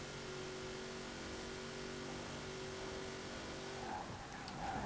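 A 2018 Formula Drift Nissan 370Z in Forza Horizon 4 accelerating hard at the top end, a steady high-pitched engine drone holding its note for several seconds before shifting near the end, with faint tire noise.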